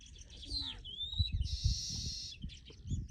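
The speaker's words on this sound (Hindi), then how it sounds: "यहाँ पर चिड़िया इतनी खूबसूरत बोल रही है" A bird sings near a village by a flooded river, giving clear whistled chirps and a short trilling phrase, fairly close, over low rumbling background noise.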